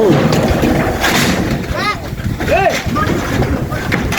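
Wind gusts roar across a microphone on a house roof, buffeting broadband noise throughout while people talk and call out over it.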